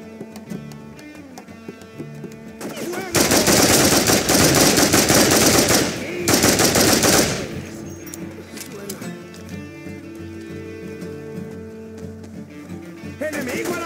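Loud sustained automatic gunfire in the video game Mercenaries roars in two long bursts with a brief gap between, set against a quieter game soundscape of music and ambience.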